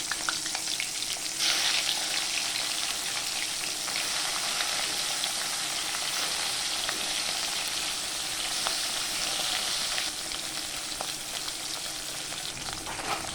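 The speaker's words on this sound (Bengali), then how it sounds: "এবারে মাছ ভাজা হয়ে গিয়েছে।" Koi fish fry in hot mustard oil, giving a steady, close, crackling sizzle that continues unbroken throughout, with no voices.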